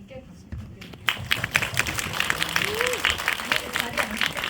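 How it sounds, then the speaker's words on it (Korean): An audience at a film screening Q&A breaks into applause for the director, loud steady clapping that starts abruptly after a quieter stretch with some voices and continues to the end. "박수 부탁드립니다"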